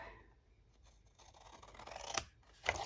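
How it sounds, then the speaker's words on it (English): Scissors make a few quiet snips and scrapes while trimming card stock at a slant, with the faint crisp cuts coming close together near the end. "we're just going to trim off the top bits there at a slant"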